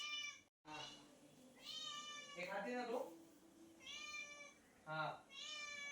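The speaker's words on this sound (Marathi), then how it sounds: "आमची म्याऊ बघा कसं मटण आणते काय पाहिजे मी तुला" A pet cat meows repeatedly in a kitchen while mutton curry simmers on a low flame. The meows come as several drawn-out, close calls mixed with a person talking.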